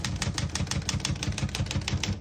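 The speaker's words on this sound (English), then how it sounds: "We're going to keep that on single for now and finish typing." Rapid, steady keystrokes clatter on a 1972 Olivetti Lettera 31 portable typewriter, each key landing as a crisp mechanical snap with a dull thud in a brisk, even rhythm, close up with no voices.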